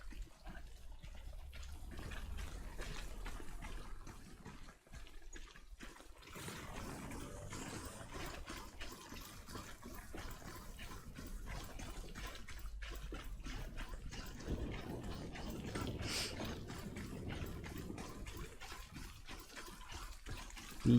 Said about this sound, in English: Ah, that is a big waterfall.